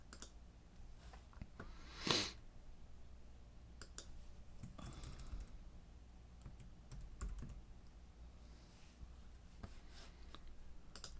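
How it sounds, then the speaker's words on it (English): Typing on a computer keyboard while entering answers into an online module, a steady stream of soft clicks with one sharper knock near the start, heard alone and fairly close. "So all I'm doing is I'm typing in the correct answers first."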